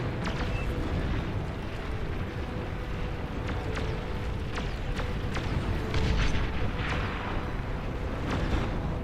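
Video game explosions rumble as a steady, dense low roar, with scattered sharp cracks and booms throughout, dense and loud with no speech.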